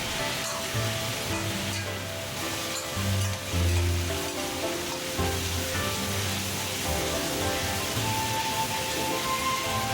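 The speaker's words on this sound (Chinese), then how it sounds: "接到香木耳、丝瓜，大火将食材炒至断生" Wood ear mushrooms and loofah stir-fry over high heat in a wok, a steady close sizzle with soft hissing and occasional scraping tosses, no talking.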